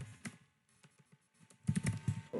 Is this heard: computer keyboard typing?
yes